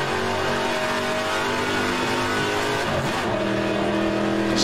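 Seven-litre muscle car engine in the rFactor 2 racing game, a loud continuous rev with rich low harmonics rising and shifting pitch, close and unbroken.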